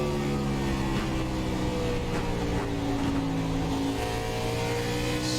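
A race car on the Richmond track in a National Speed Association Killer Pro Series race drones past with a steady, loud engine whine, heard at close range with no talk.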